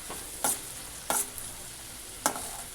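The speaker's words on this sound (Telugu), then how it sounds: "ఆనియన్ కొంచెం పచ్చివాసన పోయేంత వరకు వేయించాలి." Onions frying in a pan for uggani, a steady soft sizzle broken by three sharp scraping clicks of a spatula against the pan, close and fairly quiet.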